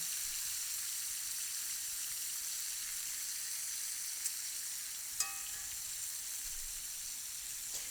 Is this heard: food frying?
yes